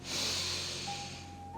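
A long, steady inhalation through the nose during a morning yoga session, close and breathy, swelling quickly and then slowly easing over about a second and a half.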